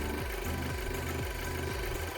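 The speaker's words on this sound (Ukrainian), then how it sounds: "Двигун тихесенько працює." An Audi A6 C6 2.0 TFSI engine idles steadily, a low rhythmic thrumming with a soft repeating pulse under a broad hiss, close by.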